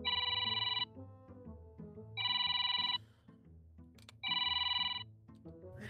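A telephone with a classic ringtone rings loud and close in three separate bursts of bright electronic trilling, with quieter background sound between the rings.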